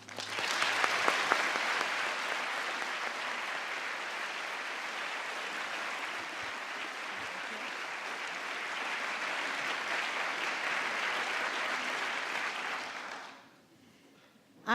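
Lecture audience applauding to welcome a speaker onto the stage, sustained even clapping from a large hall lasting over ten seconds before quickly dying away to near silence.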